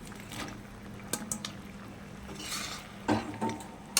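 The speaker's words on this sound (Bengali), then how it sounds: "এবার এই ভেজে রাখা সোয়াবিনগুলো আমি সব দিয়ে দেবো।" Fried soya chunks tip into a pan of boiling chilli gravy, with a soft wet bubbling, a few clinks of a utensil against the pan and a brief splashy stir near the end.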